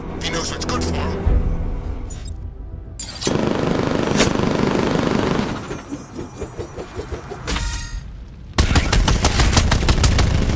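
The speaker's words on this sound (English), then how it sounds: "The Bat's got a cannon on his car." The Batmobile's cannon firing in Batman: Arkham Knight, loud rapid bursts of gunfire over a roaring car engine, with clattering impacts and a voice speaking over the action.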